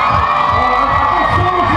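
A live crowd cheering and shouting loudly and continuously, a dense wash of voices with whoops rising throughout, close and filling the space.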